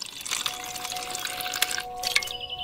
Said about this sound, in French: Ajoutez de l'eau.